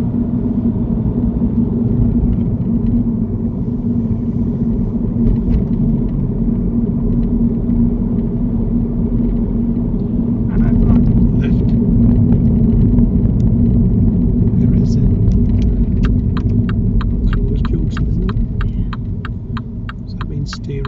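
During a driving lesson, a car engine rumbles and hums steadily at moderate loudness while the car moves, with a run of quick clicks near the end.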